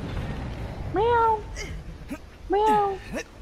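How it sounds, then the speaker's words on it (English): Two distinct cat meows in the video game Dead by Daylight, rising then falling in pitch, separated by a short pause, with some noisy thumps and pops around them. "Do you hear the cats?"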